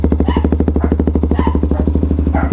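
A KTM Duke motorcycle with an Akrapovic muffler and its silencer removed idles close by, its exhaust pulsing in a fast, steady, lumpy beat with no voices over it.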